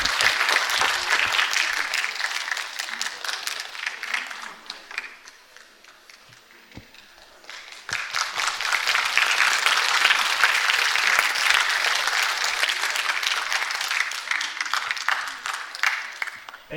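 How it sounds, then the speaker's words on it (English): Audience applause at a talks event fills the room loudly, dips to a softer patter midway, then swells back into full, sustained clapping. "A huge round of applause, please."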